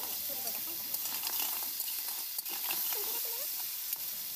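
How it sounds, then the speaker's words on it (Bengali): Crab pieces fry on low heat in a pan while being stirred, a quiet continuous sizzle broken by light scraping ticks of the utensil. "হালকা আঁচে 2 থেকে 3 মিনিট কাঁকড়াগুলো ভালোভাবে নাড়াচাড়া করে ভেজে নেব।"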